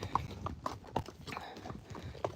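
Horse hooves clip-clopping at a walk during a ride-and-lead session, a steady run of soft, fairly close hoof beats with nothing else prominent.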